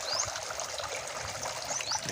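Water trickles and bubbles steadily in a catfish tank's aeration, with small bright drips popping near the surface, close and soft.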